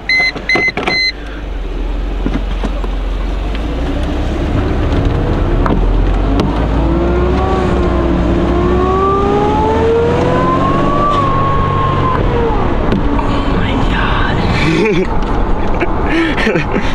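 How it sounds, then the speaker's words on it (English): Mercedes SLK230 with a loud supercharger mod, engine droning steadily under acceleration with rising whine, a brief blow-off valve release audible amid continuous road and engine noise; voices briefly present. "That blow off sound is just something else."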